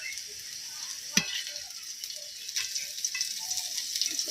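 Fresh broad beans frying lightly in oil in a kadai, a soft continuous sizzle with occasional stirring scrapes and a sharp clink of the spatula against the pan near the start.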